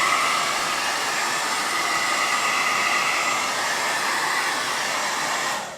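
A blow dryer running steadily and close up, a continuous loud airy whoosh used to dry wet paint, cutting off at the end with no voices.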